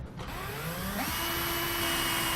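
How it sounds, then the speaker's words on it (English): A drill bores a small pilot hole into the body of a 2012 Ford truck, a steady, close motor whine with a harsh, grinding hiss that holds continuously, shifting slightly in pitch as the bit cuts. "We'll drill a small pilot hole in that area."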